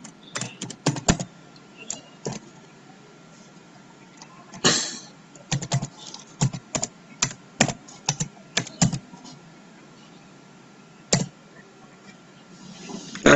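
Code is typed on a computer keyboard during a programming lesson: sharp, close key clicks in irregular quick runs with short pauses between, over a faint steady background.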